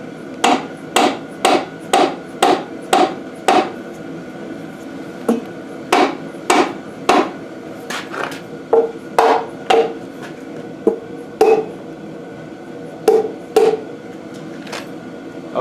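Hammer striking the timing cover on a Case 188D engine during a rebuild: a rapid series of sharp metallic whacks, then slower irregular blows with short pauses, loud and close with no talk.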